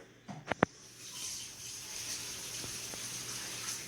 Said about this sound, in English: If you don't know how to wash your hands, that's how you wash your hands.